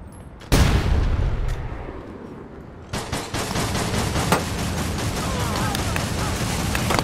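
A grenade bursts with a sudden heavy boom in APB Reloaded, its rumble trailing off, then rapid sustained automatic gunfire crackles continuously with sharp individual shots standing out.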